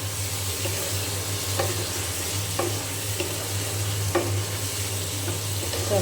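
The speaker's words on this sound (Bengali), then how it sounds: "তো আমি মশলার সঙ্গে আলু খুব ভালো করে এখন আর একটু কষিয়ে নেব" Potatoes stir-fried with spices in a pan for an egg-potato curry: a steady close sizzle with a few sharp spatula scrapes against the pan every second or so, no voices.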